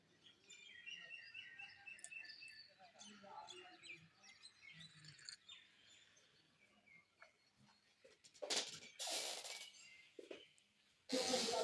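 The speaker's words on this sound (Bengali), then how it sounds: "আমার সবচেয়ে পাখির আওয়াজগুলো খুব ভালো লাগছে" Birds chirp and sing in quick, bright bursts, some near and some farther off, over a quiet outdoor background with a few louder rustling noises.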